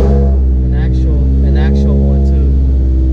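A Toyota 2ZZ engine idles loud and close while warming up, a steady low drone that rises slightly, with people talking over it.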